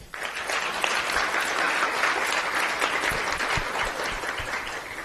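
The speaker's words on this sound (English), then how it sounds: "Can we get a loud round of applause for our faculty, staff, and students who have helped out putting on the ceremony tonight?" Applause fills a graduation ceremony hall, a large crowd clapping in a continuous, fairly loud wash that starts abruptly and holds steady for about five seconds.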